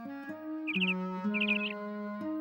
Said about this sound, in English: Miffy was awakened by the sound of a chirping bird just outside her window